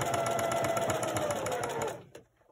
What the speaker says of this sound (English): So just keep sewing, sewing, sewing.